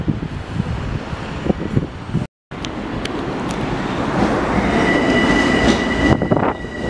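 A Ronkonkoma-line commuter passenger train rolls along with a steady low rumble and rhythmic wheel clatter, a thin metallic squeal rising later. Continuous, close, and without voices.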